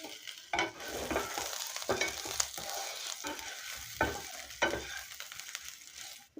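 Potatoes fry with ginger paste, turmeric and salt in a pan for a spicy Assamese aloo fry. A spatula scrapes and stirs in bursts over a soft, steady sizzle, close by and fairly quiet.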